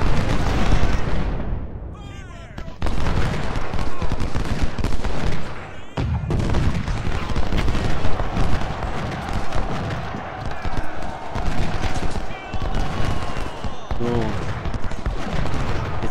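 Loud, chaotic American Civil War battle sounds in the game Ultimate General: Civil War, with repeated booming cannon blasts and bursts of gunfire, layered with game effects and occasional voices.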